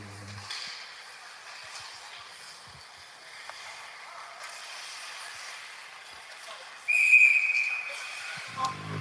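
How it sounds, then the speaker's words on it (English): At a 16U AAA ice hockey game, a referee gives one short, shrill whistle blast midway, over low, hissy rink ambience. "we'll get a whistle"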